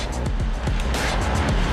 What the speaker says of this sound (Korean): 불어난 원사를 다시 흡입 모터를 통해 이동시킨다.